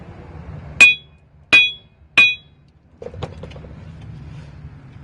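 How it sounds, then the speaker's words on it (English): Three sharp, ringing metallic strikes from a small Thor hammer on the rear axle of a 1956 Chevy Bel Air, evenly spaced about half a second apart, followed by softer clinks and low workshop rumble. "So, we'll start off with the baby Thor hammer"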